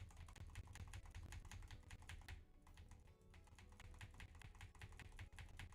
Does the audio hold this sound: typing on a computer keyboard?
yes